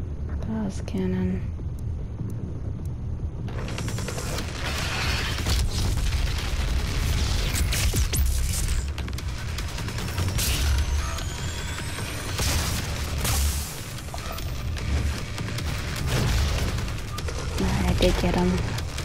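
Dense weapon fire from the DOOM video game fills the whole stretch, with repeated booms, rapid bursts and explosive blasts that stay loud and steady throughout, under a talking player's voice.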